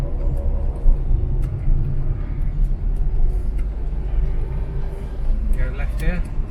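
An Austin Allegro on its first test drive after restoration, with a steady low engine drone and road rumble throughout, a voice talking over the noise.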